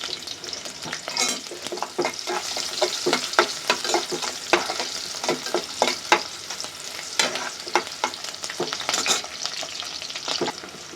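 Chicken pieces frying in a pan, a continuous loud sizzle broken by frequent sharp spatula scrapes and clatters in an irregular rhythm, close and with no talking.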